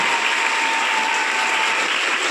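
Applause at a march and dharna forms a steady, dense wash of clapping from a crowd, with a faint tone running underneath.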